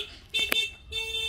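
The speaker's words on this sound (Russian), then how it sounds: "Еще имеют наглость пипикать" A car horn honks on a street in Tenerife, Spain, two short bursts separated by a brief pause, fairly close and loud over light traffic noise.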